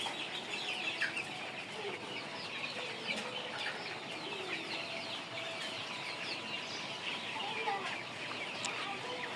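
A large poultry farm's chickens cluck and chatter continuously in a busy, moderately distant chorus, with short overlapping calls throughout.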